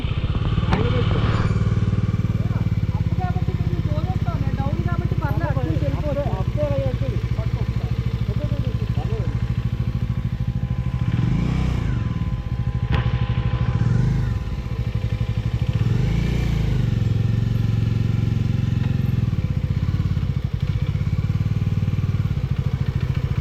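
An Aprilia RS V4 motorcycle engine runs steadily and close by, a constant deep throbbing rumble throughout. Voices are heard over it.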